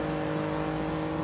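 Toyota GR Yaris engine in Gran Turismo Sport holding a steady high-rev drone, loud and continuous with strong tonal hum and no talk over it.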